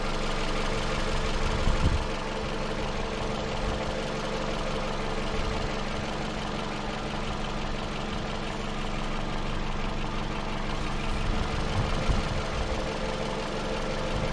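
A warm 2009 Pontiac Vibe idles in neutral, its engine giving a steady, close low rumble with a faint repetitive knock, and brief louder swells near the start and end.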